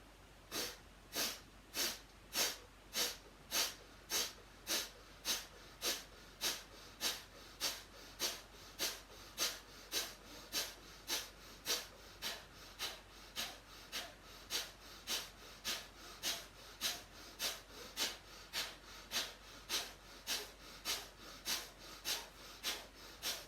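A person doing Kapalabhati breathing, with rapid diaphragm pumping breaths: a long, even train of about thirty sharp nasal exhalations, close and fairly quiet, ticking at a steady rhythm.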